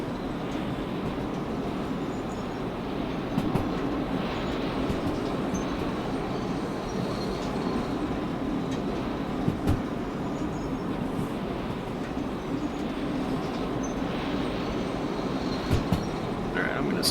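Simulated train locomotive and rail cars in the game Derail Valley, running and slowing with continuous rolling rumble, occasional clicks and clacks of wheels on track, heard steadily at a moderate level.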